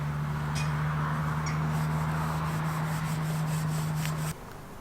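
A metal shed surface polished by hand, giving a steady close scrubbing rub with a constant low hum underneath that cuts off near the end, leaving quieter rubbing.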